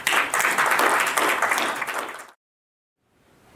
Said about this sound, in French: les applaudir pour tout ce qu'ils font.